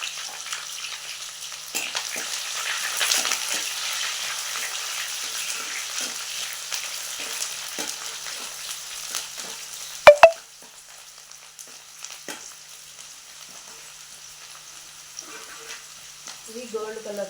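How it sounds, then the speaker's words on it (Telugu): Curry leaves and chopped onions fry in hot oil in a pan, giving a steady, close sizzle that runs through most of the clip, with one sharp clatter near the middle before the frying quiets somewhat. "ఇక్కడ ప్రాసెస్ ఇప్పుడు కరివేపాకు, ఆనియన్స్ కొద్దిగా వేసుకుంటే చాలండి"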